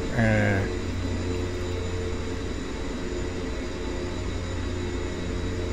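A Twin Otter aircraft in the X-Plane 11 flight simulator holds on a runway near Palm Springs, with a steady engine drone throughout and a brief tonal chime at the start.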